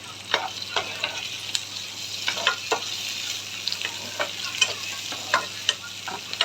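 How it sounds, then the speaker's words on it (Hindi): Boiled macaroni and corn are sautéed in a pan under a steady sizzle, with a spatula scraping and tapping the pan in quick, irregular strokes throughout. "थोड़ा सॉटे कर दूँ अच्छे से।"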